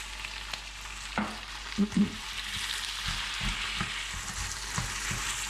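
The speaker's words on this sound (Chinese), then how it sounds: "大火翻炒3、4分钟以后就可以了" Kung Pao chicken stir-fried over high heat in a wok: continuous hissing sizzle with spatula scrapes and clanks against the pan, a couple of louder knocks, close up and without speech.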